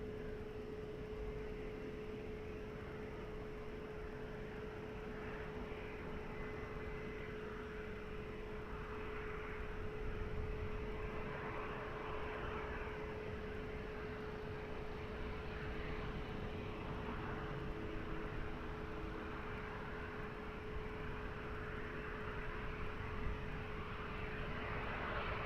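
Fixed-wing airplane taking off from runway 20 at Lisbon Airport, heard as a steady, fairly distant engine roar that swells slightly midway and holds through to the end, with no talk.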